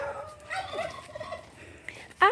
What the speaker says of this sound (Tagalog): These are the native turkey.